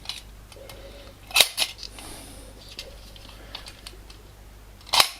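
Shutter clicks from a Purma Special camera fired at three different speeds: sharp mechanical snaps, a couple close together, then one more a few seconds later among faint handling noises.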